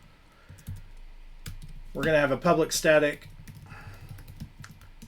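Fast clicking on a computer keyboard during coding, steady close keystrokes running beneath a man's speech.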